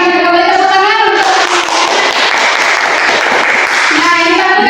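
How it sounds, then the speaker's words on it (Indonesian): Loud, dense applause from a school audience swells in the middle and fades, framed by speech before and after. "silakan kembali tepuk tangan untuk"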